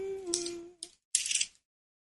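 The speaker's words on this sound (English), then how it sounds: "Hear me turning the pages." Book pages turn in two crisp, close papery rustles, a short swish and then a longer sweep, following a brief hum at the start and ending in silence.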